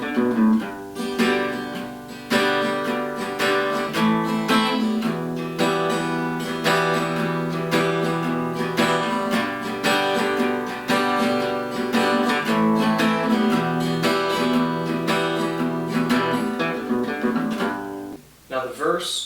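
Acoustic guitar playing the verse riff of a song, a steady strummed and picked pattern with a bright, ringing tone that continues for nearly twenty seconds alone, close and fairly loud, before trailing off at the end.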